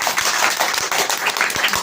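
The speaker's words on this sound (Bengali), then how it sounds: "সবাই একটা হাততালি দেবে" A small group of students applauding in a classroom, brisk uneven clapping close by and fairly loud, sustained for a couple of seconds.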